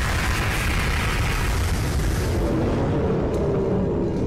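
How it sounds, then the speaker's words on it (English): An animated explosion from Skibidi Toilet: a loud, sustained roaring blast that fills the scene and slowly fades. "Titan Speakerman manages to make it out of the blast"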